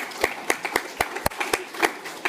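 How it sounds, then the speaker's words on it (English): A board meeting audience claps for students, a modest round of separate, uneven hand claps spaced a few tenths of a second apart, fairly close and fading out quickly. "if we could just give them a round of applause"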